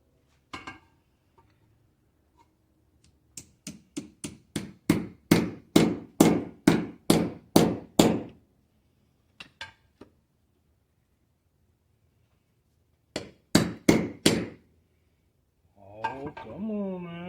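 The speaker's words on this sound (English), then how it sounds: "I hold the U-joint in there while I beat it down in there a little bit" A hammer strikes a U-joint on a 1992 Ford F-150 with a run of about a dozen sharp, ringing metallic blows. A short second burst follows, then someone speaks.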